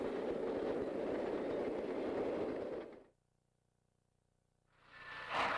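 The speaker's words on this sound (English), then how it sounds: "It's early morning as 614 heads her train out to begin a great day of steam railroading." Chessie steam locomotive 614 hauls its train out of Brunswick, Maryland, in early morning, a loud sustained rumble of engine and rolling cars that drops to near silence midway before the sound swells back up.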